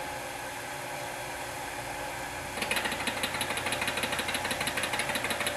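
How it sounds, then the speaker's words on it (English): A home-brewing system's auto-sparge pump running with too little liquid: a steady mechanical hum, then a louder, rapid rhythmic pulsing chatter as the pump struggles, close and continuous. "that's the auto sparge trying to operate in less than optimal volumes of liquid"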